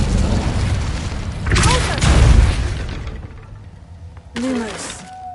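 Incendio fire spell cast in Hogwarts Legacy, a loud whooshing burst with a rumbling crackle that swells and fades, then a second shorter magical flare near the end with a rising swept tone.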